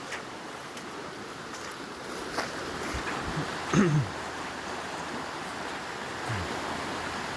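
A flooded creek rushes at high flow, a steady broad wash of water noise with occasional wind buffeting and faint thumps from the near bank.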